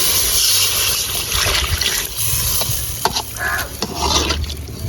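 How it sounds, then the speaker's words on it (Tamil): Water poured into a kadai of frying egg gravy masala brings a loud, continuous sizzle with steady stirring up close and no talking. "இப்போ தண்ணி ஊற்றிக்கலாம்."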